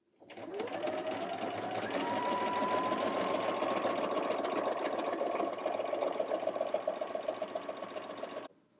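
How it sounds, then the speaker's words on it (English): Sewing machine fitted with a pintuck foot stitching a pin tuck, a close, loud, steady mechanical hum with rapid needle chatter running unbroken for about eight seconds before stopping. "I'm going to stitch a pin tuck a little bit farther apart"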